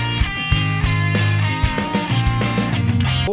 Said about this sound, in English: Are you tired of your guitar solo sounding like this?